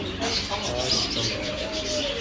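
Pigeons coo softly nearby amid a few chirps, with people talking over and around the calls, in Dubai.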